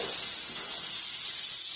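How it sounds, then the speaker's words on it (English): Steady, bright sizzling hiss of sausage frying in a hot pan, constant and close, with no voices. "Just frying up my sausage."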